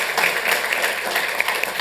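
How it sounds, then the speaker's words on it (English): Applause from a city council meeting audience in Santa Ana, clapping steadily for neighbors being honored, a dense, continuous patter filling the room for about two seconds. "A round of applause"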